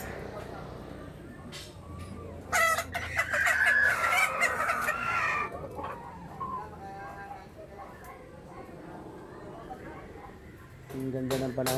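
Chickens clucking around a rural yard, with a rooster crowing loudly in the middle and again at the end, amid scattered farmyard noise and some background talk.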